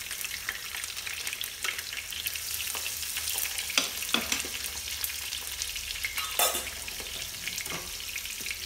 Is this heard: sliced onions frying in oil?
yes